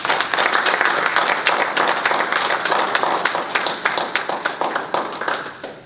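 Conference audience at the National Bar Association's annual meeting in Chicago applauds a panel moderator, a loud, sustained burst of many hands clapping that tapers into scattered individual claps near the end.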